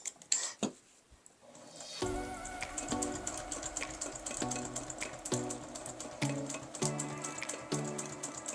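A sewing machine doing free motion quilting on fabric for a glasses case runs in short, repeated bursts of rapid stitching with brief pauses between, close by, after a few quiet handling sounds at the start.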